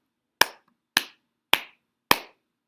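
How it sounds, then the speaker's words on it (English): Four crisp, evenly spaced hand claps close up, each a sharp single clap followed by silence, beating out the four syllables of the word helicopter. "Let's clap to helicopter."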